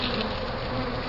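A dense, close buzzing of many honeybees in a hive during a bee removal, steady and loud, with no voices.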